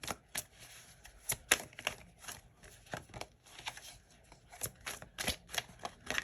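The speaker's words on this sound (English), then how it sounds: "I just feel intuitively like to keep shuffling" Tarot cards are shuffled repeatedly, a series of crisp riffling bursts and soft taps at an irregular rhythm, close and fairly quiet.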